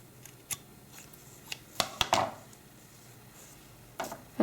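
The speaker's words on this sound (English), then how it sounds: "take your scissors, and we're going to do a diagonal cut" Scissors cutting fabric on a diagonal for a homemade powder puff: a few sharp, close snips spread out with quiet gaps, then a short cluster of cuts near the end.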